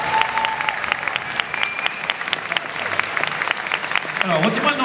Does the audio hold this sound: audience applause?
yes